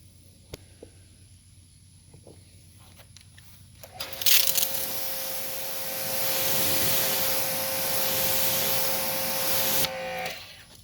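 Pressurized water spray rinsing a ceramic-coated car panel on a coating longevity test board, a loud steady hiss starting abruptly after quiet handling noises and running several seconds before cutting off.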